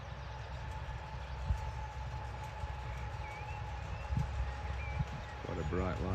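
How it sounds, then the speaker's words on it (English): A diesel service train pulls into a station on the River Esk narrow-gauge railway during a centenary event, a steady low rumble with rising engine noise and a whistle-like tone at the end, while people talk nearby. "let's film this first diesel service coming in"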